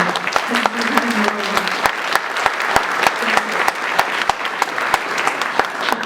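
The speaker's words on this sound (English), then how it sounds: "Could I please have a big round of applause for everyone up here?" Audience applause at a Ferry County candidate forum for the 2014 primary, steady clapping from a room of people filling the whole stretch, with a brief voice or two underneath.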